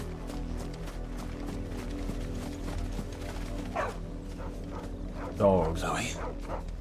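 Dogs bark in Final Fantasy XVI, a short harmonic burst of yelps near the end, rising over continuous game ambience and footsteps-like thuds; a voice is faintly present underneath.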